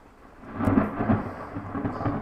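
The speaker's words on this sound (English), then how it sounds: "A very stormy day outside here for you today." Thunderstorm outside, with a broad low rumble of thunder swelling and rolling over steady rain, fairly loud and continuous with no talking.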